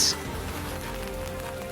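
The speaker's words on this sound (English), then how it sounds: "Look at the rain pouring down." Heavy rain pours steadily on a mountain-bike race course at Spa-Francorchamps, a dense, even hiss that holds without a break.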